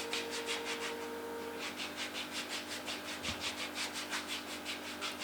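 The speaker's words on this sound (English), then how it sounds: "I'm then going to be using a dry foot rasp" A dry foot rasp filed across the skin of a foot in quick back-and-forth strokes, a rhythmic scratchy rasping repeated about three times per second, close and fairly quiet over a faint steady hum.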